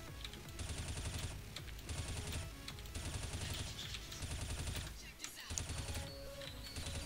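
Repeated M4A1-S rifle shots from a video game at farther range, rapid bursts crackling in clusters with short pauses, fairly loud over a dense mix of game sounds and background music.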